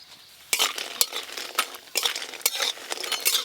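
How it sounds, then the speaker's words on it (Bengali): Biuli dal bori fried in mustard oil in a wok and stirred so they brown evenly. Bursts of crackling sizzle come with each turn of the spoon, along with scrapes and light metal clinks, near and clear, with no one speaking. "বড়িগুলোও ভালো করে ভেজে নেব।"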